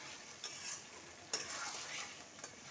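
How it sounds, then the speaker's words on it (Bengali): Egg chicken masala with mayonnaise being sautéed in a pan, a soft steady sizzle with a few light scraping stirs of a spatula against the pan, fairly quiet and without voices. "খুব ভালোভাবে কষিয়ে নিচ্ছি"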